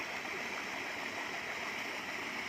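Paddle aerators churning the water of a shrimp pond, heard as a continuous rushing, splashing wash, steady and fairly faint as if from some distance, with no voices.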